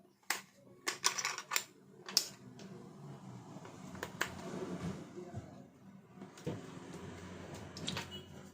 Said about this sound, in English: we'll place the battery here